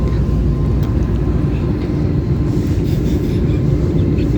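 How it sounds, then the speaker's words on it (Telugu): Steady, loud broadband roar of an airliner climbing out after takeoff on a flight to Kochi, heard from inside the cabin, continuous and unchanging throughout with no talk. "ఇప్పుడే ఫ్లైట్ టేక్ ఆఫ్ అయ్యి స్టార్ట్ అయింది కొచ్చికి"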